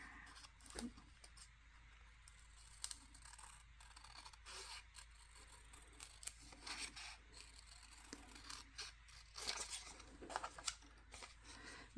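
Scissors trim around paper at a desk, producing faint, quiet snips and rustly scraping in an irregular rhythm over a low, steady background hum, with no voices.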